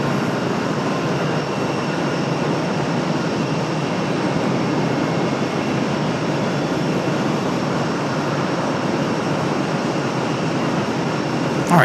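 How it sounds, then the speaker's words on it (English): Frontier and American airliners head out for departure at Raleigh-Durham airport, a constant, moderately loud jet engine drone that stays even throughout. "So a couple headed out for departure here. One being Frontier, the other being an American."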